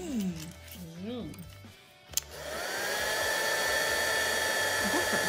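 A heat tool warming gilding flakes for a stamping craft, a loud, steady blowing whir that starts abruptly after a click and runs on; someone speaks over the quieter start.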